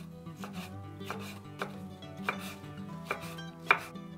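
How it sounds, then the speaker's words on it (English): A knife dices stuffing ingredients for Teochew crystal dumplings on a board, giving a steady run of quick, fairly quiet chops at close range over soft background music. "Dice all the stuffing ingredients."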